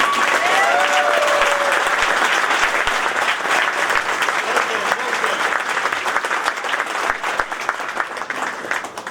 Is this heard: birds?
no